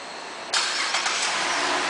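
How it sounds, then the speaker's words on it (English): A 2008 Buick Enclave CXL engine turning over by remote start, a sudden broadband whoosh of cranking that settles into a steady idle, close and loud with no talk. "the car starts right up"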